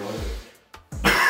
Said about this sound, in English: before we were rudely interrupted by someone coughing